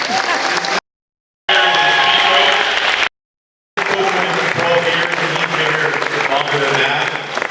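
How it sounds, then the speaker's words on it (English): An awards-night audience applauds in a loud, sustained wash of clapping, broken by two brief silent gaps, with a voice faintly mixed in. "Let's have a round of applause for Mr. Crowley."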